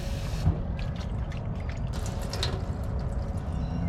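Water from a tap running over bok choy being washed in a van, a steady rushing flow with splashes and small drips, close and fairly loud throughout.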